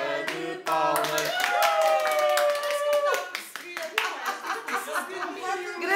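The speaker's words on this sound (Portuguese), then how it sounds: "uma salva de palmas" Clapping at a birthday party for a little boy named Celso, a quick rhythmic patter of hands close by, with voices and a child's chatter mixed in and a short chuckle.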